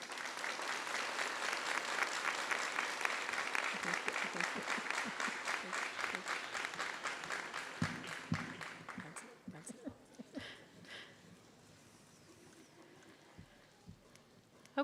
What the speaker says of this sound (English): I would like the graduates to stand up and applaud all of your well-wishers in the audience tonight.